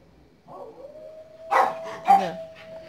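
A dog whimpers and howls in distress while left alone, a thin sustained cry rising into two louder wailing bursts, heard from a short distance.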